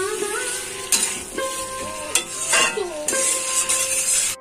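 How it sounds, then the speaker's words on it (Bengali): Fried cauliflower stir-fried in a reddish spice paste for a rohu fish curry, with a steady close sizzle, scraping spatula strokes and occasional metallic clinks against the pan. "এবার আমি এর মধ্যে দিয়ে দিব ভেজে রাখা ফুলকপিগুলো। ফুলকপিগুলো 5 থেকে 10 মিনিট কষিয়ে নিব।"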